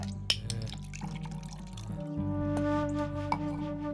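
Water drips steadily amid a sustained tonal background hum, with a few sharper drops standing out near the start and end; no one speaks.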